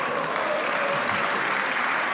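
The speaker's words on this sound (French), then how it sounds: "Et tout le Sénat qui applaudit" Members of the French Senate applauding in the chamber, a loud, dense and even wash of clapping from many hands that holds steady from start to finish.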